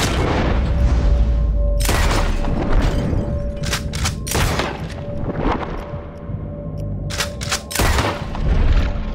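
Gunshots ring out at shooting practice in Red Dead Redemption 2, about half a dozen sharp, loud reports spaced a second or two apart over a steady background hum and rumble.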